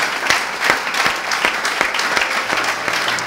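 A church congregation on the last service of the year applauding to acclaim the Lord, loud close clapping with rhythmic, regularly spaced accents running through the whole stretch.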